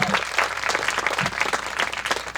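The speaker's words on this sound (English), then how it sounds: "Let's give a round of applause for the Coast Hills team." Steady round of applause from an audience at a Day of Hope celebration, honoring the Coast Hills team; dense, continuous clapping fills the room at a fairly loud level without speech.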